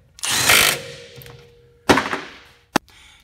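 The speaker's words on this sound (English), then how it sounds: "You can torque them down to that." Bolts being tightened on the rear differential support bracket of a Ford Expedition, a close, loud burst of power-tool rattling, followed by a second shorter burst and a sharp metallic click, with no talking.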